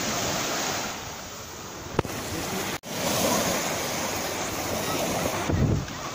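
Sea waves wash continuously onto the beach at Anapa on the Black Sea, a steady loud roar of surf mixed with gusty wind buffeting the microphone, with a couple of brief thumps and no talking.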